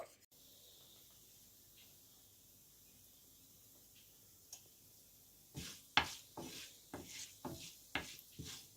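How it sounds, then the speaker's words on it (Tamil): Urad dal fries in hot sesame oil: a faint low hiss gives way to a close run of sharp crackles and pops in the last few seconds. "விட்டு அந்த எண்ணெய் கொஞ்சம் சூடான உடனே 1 டீஸ்பூன் உளுத்தம்பருப்பு போடுங்கோ"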